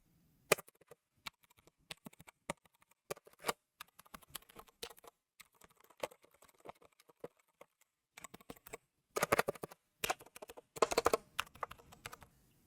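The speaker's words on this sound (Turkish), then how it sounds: "Yani sesi bir mekanik klavyeye göre gayet iyi aslında" Gamepower Eva 7 mechanical keyboard keys with red switches clack in irregular bursts, some single taps and some quick flurries of typing, fairly close with silent gaps between.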